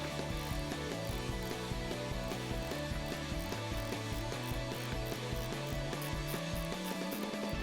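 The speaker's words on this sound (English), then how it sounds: "grab that same T45 bit or key and remove this bolt" A ratchet with a T45 bit backs a bolt out of a RAM tailgate, giving a rapid, continuous clicking of the pawl that stays loud and close and runs for several seconds with no talking.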